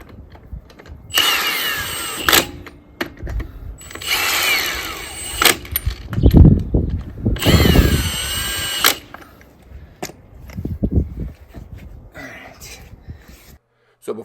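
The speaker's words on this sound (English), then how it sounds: "I use an electric drill just to cinch it up" An electric drill runs in three loud, close bursts of whirring and ratcheting as it snugs lug nuts onto a Jeep wheel, with clunks of handling and a person talking in between.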